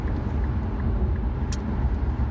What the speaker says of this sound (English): I'm trying to do a live and drive on highway traffic